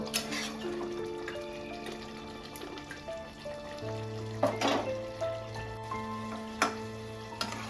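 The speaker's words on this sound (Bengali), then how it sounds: "অল্প করে একটু জল দিয়ে দেবো এইভাবে আমি কষাতে থাকবো" Chicken curry (murghir jhol) being sautéed in a pan with a little water added, giving a steady close sizzle with soft scraping stirs and a few clinks throughout, no talking.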